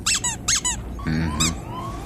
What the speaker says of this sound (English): And this one also squeaks.